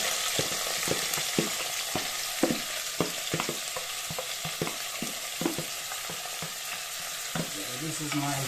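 Seasoning sizzles and fries in a hot pan during home cooking, with a steady crackling hiss broken by repeated sharp stirring scrapes and clacks, close and alone without talk.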